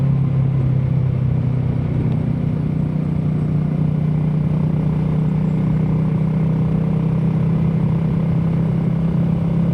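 A Royal Enfield Himalayan 450 motorcycle engine drones steadily, recorded from a helmet mic, a constant low rumble mixed with wind noise and no clear revving.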